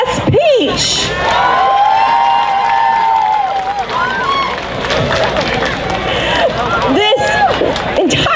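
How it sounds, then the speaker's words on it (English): A festival crowd at a cosplay contest cheers and whoops for a contestant dressed as Princess Peach, loud, close shouts and excited voices rising and falling over scattered clapping. "I want to hear a big round of applause for our next contestant, number 4."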